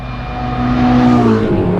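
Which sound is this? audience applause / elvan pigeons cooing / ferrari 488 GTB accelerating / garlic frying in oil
ferrari 488 GTB accelerating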